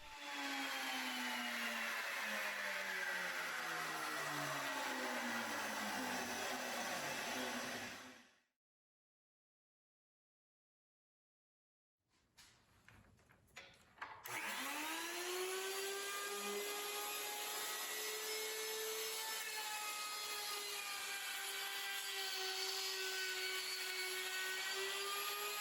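Router fitted with a 1/4 inch bit cutting through material, a loud sustained high-pitched whine that drops away into silence, then spins back up and runs steadily again.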